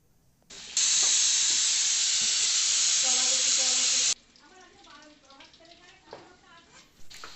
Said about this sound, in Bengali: তেল গরম করে নিয়েছে উচ্ছেটা ভেজে নিচ্ছে লাল লাল করে